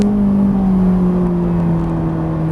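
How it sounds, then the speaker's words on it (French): A Ferrari 458 Italia accelerates on the Haute Saintonge circuit, its engine a loud, steady high-pitched drone with strong tonal harmonics that slowly shift as it pulls, close and continuous without speech. "Et on accélère."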